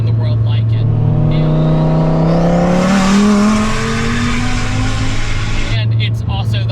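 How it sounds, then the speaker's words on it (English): A 1400-horsepower twin-turbo Dodge Viper V10 engine revs up with a rising, raspy howl, then settles back to a low idle rumble, close and loud. "The V10 in the Viper seems to be kind of decisive with the sound."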